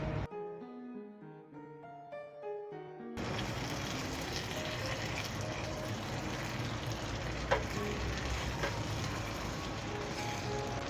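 Urad dal mash frying and simmering in a pan, a dense steady sizzle and bubbling that starts after a few seconds of musical notes and continues evenly, with one brief clink.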